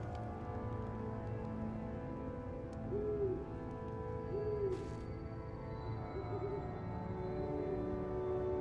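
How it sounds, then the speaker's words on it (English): Owls hoot in soft, repeated calls within a Final Fantasy XIV Shadowbringers game scene, set over a steady, dense ambient bed with faint rain-like texture; the calls are quiet and spaced a second or two apart. "Owls hooting."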